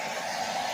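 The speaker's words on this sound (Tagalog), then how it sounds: "So, I have my blower." A hair dryer blows with a steady, loud, unbroken whoosh of air that holds at an even level throughout the short stretch.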